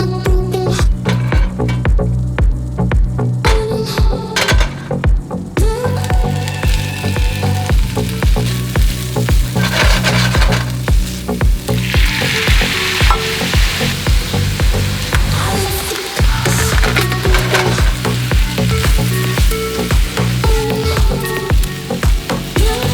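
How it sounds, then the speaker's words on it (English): Leftover brisket sizzles steadily in a frying pan with spices, a continuous loud frying crackle with occasional stirring scrapes and no talking. "get the brisket in the frying pan, heat it up with some spices"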